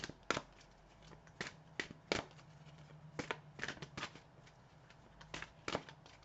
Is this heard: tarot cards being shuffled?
yes